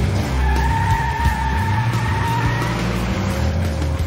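Rally cars race tight turns on muddy countryside roads northeast of Amsterdam at the 1998 Dutch National Rally Championship, engines revving loudly with skidding tyres and a rising whine close by.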